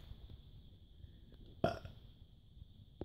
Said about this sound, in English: Can you burp?